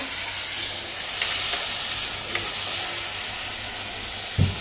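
Mushrooms fry in a pan with a steady, moderate sizzle and hiss, broken by a few faint utensil taps and one low knock near the end.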